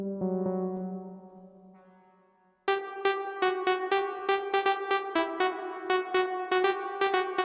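A bright synth layer with no delay plays a sustained low tone that fades, then switches to crisp, rhythmic plucked notes repeating steadily, quiet and dry.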